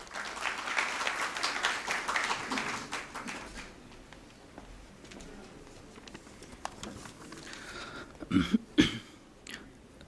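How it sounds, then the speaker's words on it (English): Audience applause at a stock exchange listing ceremony, a crowd clapping steadily for about four seconds before fading into a quieter room, with coughs and throat clearing near the end. "Can we welcome him on stage with a round of applause?"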